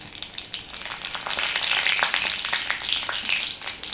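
Dried red chillies fry in hot oil in a pan already holding popped mustard seeds, giving a loud, steady sizzle and crackle throughout with no talking.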